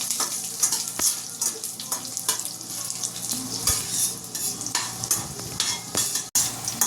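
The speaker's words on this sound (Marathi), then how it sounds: "लसूण व्यवस्थित गुलाबी रंग जरा परतून द्यायचं, लालसर होऊन द्यायचं." Garlic sautés with cumin in a hot pan, sizzling and crackling steadily while a spoon scrapes and stirs against the metal, giving clicks and knocks close up, with no talk.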